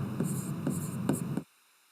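Pen or chalk strokes scratch out short marks in quick bursts, three or four close scrapes before stopping abruptly into silence.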